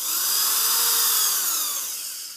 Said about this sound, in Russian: Взяли мощнее дрель.